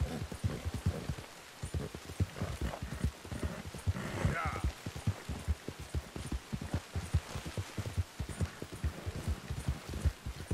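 In Red Dead Redemption 2, a horse's hooves clip-clop in a steady, even rhythm at moderate volume, with a faint rain-like hiss behind them and a voice talking over the top.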